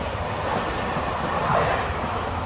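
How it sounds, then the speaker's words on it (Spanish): Interior rumble of a riding train, an older non-electric regional train, with a steady low roar and a soft rushing hiss throughout, no voices. "normalmente me tocan unos trenes regionales que son eléctricos y mucho más cómodos que este"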